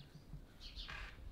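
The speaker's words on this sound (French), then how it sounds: "Il y a les oiseaux, tranquille." A bird in the mountains gives a short chirping call, faint and brief, over low outdoor background noise.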